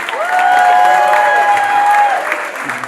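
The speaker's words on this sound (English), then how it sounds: "Give them a round of applause." Wedding guests applauding the bridesmaids during a thank-you speech, a full, sustained round of clapping with some cheering and a voice heard under it, fading slightly near the end.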